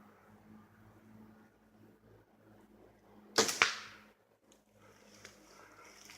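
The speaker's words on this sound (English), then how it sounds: "Something's going bzzz when it goes out of your bow. It's called a buzz arrow." Buzz arrow shot from a bow while practicing in the Adirondacks, a sharp whooshing buzz that bursts loudly midway and fades quickly, set against quiet outdoor background.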